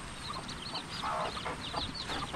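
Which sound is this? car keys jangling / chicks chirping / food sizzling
chicks chirping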